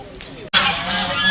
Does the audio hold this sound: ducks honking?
yes